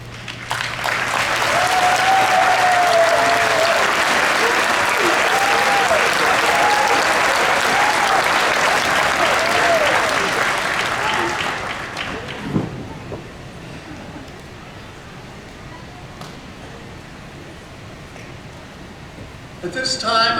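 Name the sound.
applause for graduate students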